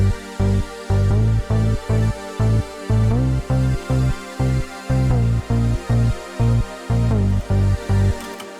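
Plugin-driven synth bass playing short, punchy repeated notes that move against the chord progression, steady pulsing rhythm, loud and upfront with no voice.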